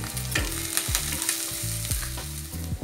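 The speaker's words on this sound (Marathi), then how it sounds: "ही चांगली परतून घ्यायची कांदा आपला चांगला परतला आहे" Onion sautéing with garam masala in a pan for sprouted matki usal gives a bright, continuous sizzle, cut by several quick spatula scrapes and clinks against the pan.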